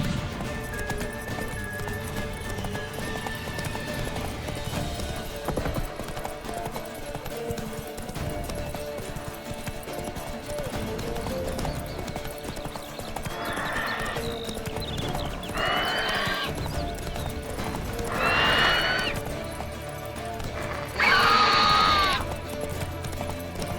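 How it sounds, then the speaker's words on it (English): A horse, Roach, gallops in The Witcher 3 with steady clip-clopping hooves and occasional whinnies under background game music and effects, fairly loud and continuous. "Oh, is it riding off? Run, Roach."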